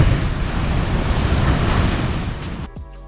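Ocean surf rolls onto a beach on Oahu, Hawaii, as a loud, steady wash of breaking waves with wind buffeting the microphone, then cutting off abruptly near the end.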